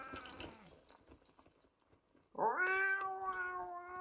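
After some faint background rustle, a person lets out a loud, drawn-out cat-like meow, mimicking a cat heard outside at night. The call wavers like a yowl and carries on through the second half.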